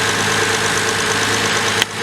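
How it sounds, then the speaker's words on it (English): A Toyota Avalon engine idles after a cold start, a steady, even hum with a constant low drone and no talk, ending with a brief sharp knock near the end. "I'll bring the Avalon around and start her up"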